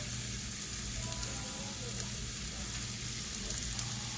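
Shrimp sizzling in garlic butter in a pan, a constant close frying hiss with light crackles and occasional stirring clicks, quiet overall.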